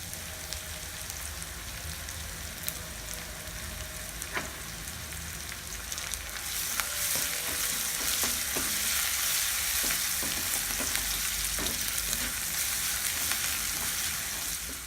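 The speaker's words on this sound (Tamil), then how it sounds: "வெங்காயம் நல்லா வதங்கிடுச்சு." Onions frying in a pan for Tamil idli upma, a constant close sizzle and crackle punctuated by occasional scrapes and clinks of stirring that grows louder partway through.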